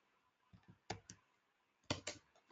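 Code is typed on a computer keyboard in short bursts of crisp clicks, with a few single keystrokes followed by a quicker cluster of taps, close and fairly quiet, with no talking.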